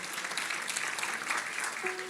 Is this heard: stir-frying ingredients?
no